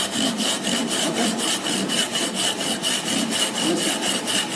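A hand saw cuts through wood for a cross halving joint, its steady back-and-forth strokes rasping in a regular rhythm, close and loud with no talking.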